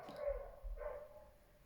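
Two quick barks from young, excitable dogs outside, muffled through walls and fairly faint, fading into quiet afterwards.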